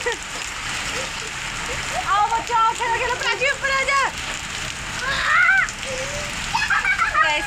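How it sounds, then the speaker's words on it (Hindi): Rain and hail falling during a storm in a hill village, a steady splashing patter under frequent loud talking that rises and falls through the whole stretch. "फिर यहाँ पे बारिश और ओले भी पड़ने लग गए हैं।"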